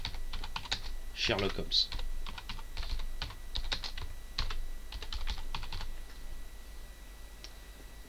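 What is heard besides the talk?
typing on a computer keyboard in Word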